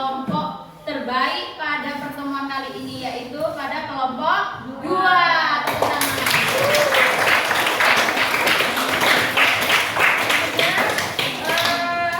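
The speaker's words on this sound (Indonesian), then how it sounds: "kita berikan penghargaan tepuk tangan kepada kelompok" Children talk in a classroom for a few seconds, then students in a school lesson break into loud, steady group applause for a classmate group, filling the remaining six seconds.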